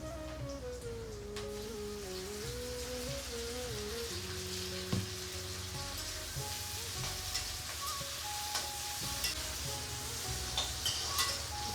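Pumpkin pieces and chopped tomato fry in a pan, giving a soft, even sizzle with a few light stirring taps, quiet and close, over a faint steady background hum and no talk.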